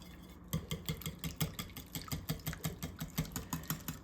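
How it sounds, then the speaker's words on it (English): Cinnamon bread batter being whisked in a bowl: quick, steady tapping and scraping strokes, close and clear, with no one talking. "we're just going to whisk all this together now"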